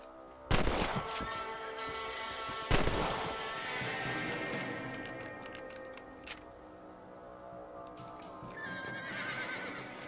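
Two sharp rifle shots ring out a couple of seconds apart while hunting rabbits in Red Dead Redemption on a Nintendo Switch OLED, over outdoor ambience and horse sounds.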